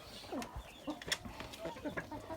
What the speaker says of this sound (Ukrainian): Молода качка гонить нашого півня. І такий бій може тривати.